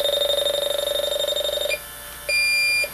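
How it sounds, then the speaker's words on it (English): A Yellow Jacket Accuprobe 2 refrigerant leak detector sounds its audible alarm: a loud, steady electronic tone with a fast pulsing warble, which stops briefly and then returns as a continuous higher beep. "On the Accuprobe 2, you will only get an audible alarm."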